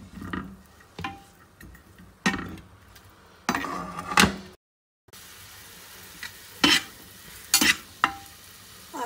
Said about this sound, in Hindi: और इसके अंदर हम लोग डाल देंगे प्याज, 1 आध मिनट के लिए ही फ्राई करेंगे।